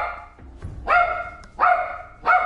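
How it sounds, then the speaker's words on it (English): A dog barks three times in loud, evenly spaced bursts, each a sharp yelp with a strong tonal body, heard close and alone with no talking. "been barking literally all day"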